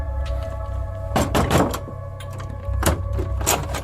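A door opens as a sound effect in a French audio drama: a few soft thuds and a scraping, creaky rustle over a steady low hum, close and moderately loud with no talk.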